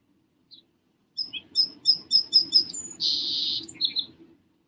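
Birds chirping in a quiet setting: a short call, then a run of bright repeated tweets and a sustained trill, fairly close and clear with no talk.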